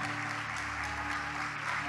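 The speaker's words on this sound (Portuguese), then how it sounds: "Pode aplaudir a Ele." Applause from a congregation during a church service, a dense even patter of clapping held under a sustained hum of music throughout.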